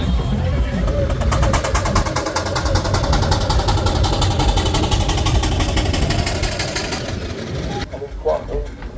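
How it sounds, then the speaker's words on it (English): A McLaren steam engine running at a West of England steam rally, a steady rhythmic mechanical chuffing and thrumming held under continuous talk, cutting off abruptly near the end. "It's got a McLaren engine."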